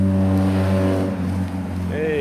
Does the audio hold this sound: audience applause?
no